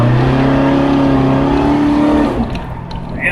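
A 2006 Crown Victoria Police Interceptor on burnout tires accelerates hard from close by, its engine note climbing loudly before an abrupt firm upshift cuts the roar back down.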